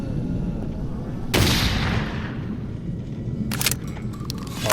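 A sawn-off shotgun firing in the zombie shooter Audio Defence: Zombie Arena, two sharp, loud blasts a couple of seconds apart, the first with a long fading tail, over a steady background din.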